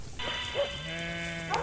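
A sheep gives one drawn-out bleat, loud and close, with a wavering tone that lasts over a second.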